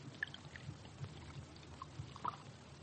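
Beer is poured into a glass as a radio drama sound effect in a 1950s detective mystery: a faint, soft trickling and splashing lasting a few seconds, with light bumps.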